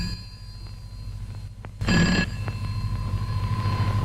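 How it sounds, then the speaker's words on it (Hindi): A telephone rings in an old Hindi film scene, a short bright bell burst standing out clearly over a steady low background hum, with no talk over it. "hello operator, give me mister जगदीश's room"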